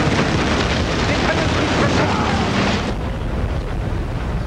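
Loud, dense explosion effects roar from the real-time strategy game Command & Conquer Generals Zero Hour, a continuous rumbling blast wash that eases slightly partway through.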